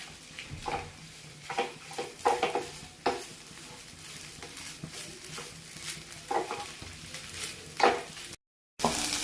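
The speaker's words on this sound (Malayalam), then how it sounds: "ഇനി നമുക്ക് ഈ പൊടിച്ചു വെച്ചിരിക്കുന്ന ചിക്കനും ഇതിലേക്ക് ഇട്ട് കൊടുക്കാം." Ground chicken for cutlets sizzles softly in a pan while a spoon stirs and scrapes it, giving repeated light scraping taps over a steady low frying hiss.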